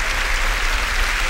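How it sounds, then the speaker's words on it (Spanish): A congregation at a Spanish-language church service applauds, a dense, steady burst of clapping filling the whole short moment. "Vamos a aplaudir al Señor Jesús"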